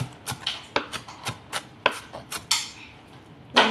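A knife chops an onion on a board in quick, uneven strokes, about a dozen crisp close-up thuds with short gaps between them and a louder cut at the end, with no one speaking.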